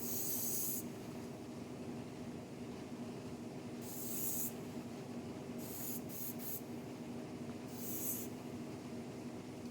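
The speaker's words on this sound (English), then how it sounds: "we will go in with the Weightless Plus. This is like #1 selling Rusk hairspray" Rusk Weightless Plus hairspray sprays in four short hissing bursts, the first and third longer and the middle one broken into quick puffs, heard close over a steady low background hum.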